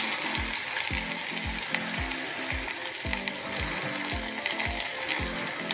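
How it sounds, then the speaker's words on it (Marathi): Onions frying in a hot pan for chole, a steady close sizzle under a regular ticking, ratchet-like clatter that repeats about twice a second. "बस का आता आपण कांदे टाकून घेऊ"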